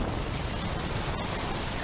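Steady heavy rain pours down outdoors, a dense, loud, unbroken hiss filling the whole stretch, with no voices over it.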